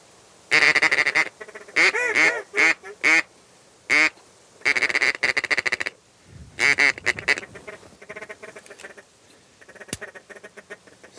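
Ducks quack during a duck hunt over decoys, sounding as loud, close bursts of repeated nasal calls in uneven clusters, then fading into softer, scattered quacks with brief pauses between.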